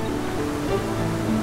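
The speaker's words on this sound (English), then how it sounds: "So I'm gonna go check out the waterfall first." A steady rushing waterfall plays in the Final Fantasy 9 video game, a constant moderate wash of water with a faint tonal game sound over it.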